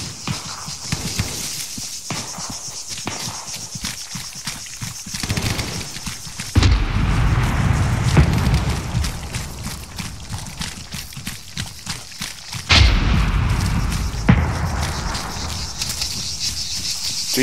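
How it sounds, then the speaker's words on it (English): In the video game Arma 3, two heavy explosions burst nearby amid ongoing gunfire, each a loud booming blast followed by a rumbling tail of falling shrapnel and debris, with distant rattling shots between them. "A shrapnel landing next to me."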